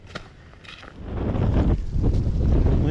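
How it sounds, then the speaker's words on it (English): Wind gusting across a backcountry hiking trail, rising from a light rush to a strong, rumbling buffet against the microphone that holds steady to the end. "Wind's starting to kick up."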